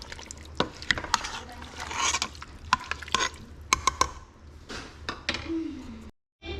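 Sweet and sour sauce being stirred in a pan, with scraping and clinking of the utensil against the pan in irregular bursts, some soft sizzling and a faint voice briefly heard near the end.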